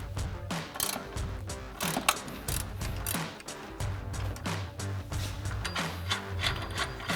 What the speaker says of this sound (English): then a 19mm ratcheting wrench on the nut side.